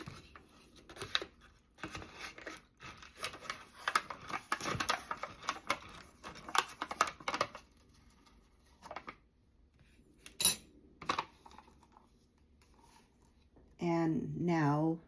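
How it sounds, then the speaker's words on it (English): A spoon stirs mac and cheese with water in a cup, giving close, repeated scraping and clinking against the cup sides in irregular bursts, followed near the end by a brief harmonic tone. "And now I'm going to stir it."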